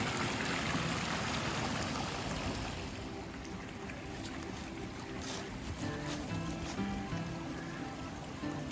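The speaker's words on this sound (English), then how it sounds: "So this little stream is the source of the waterfalls I'm going to be trying to find today." A small mountain stream on an off-trail hike rushes steadily over rocks, a dense, continuous broadband wash with no pauses, close and fairly loud throughout, a slight dip midway, with no voices.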